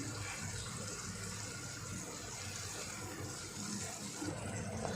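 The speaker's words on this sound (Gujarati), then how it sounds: "થોડુંક એમાં પાણી એડ કરશું આપણે।" Water is poured steadily into a pan of spicy Gujarati gathiya curry, a continuous close splashing gush with no talk.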